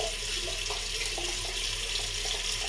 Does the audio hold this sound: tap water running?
yes